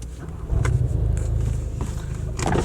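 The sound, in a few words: car engine starting without a key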